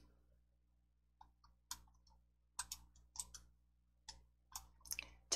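Sharp, quiet mouse clicks in sparse irregular bursts, some in quick pairs, made while working in PowerPoint, heard alone against near silence.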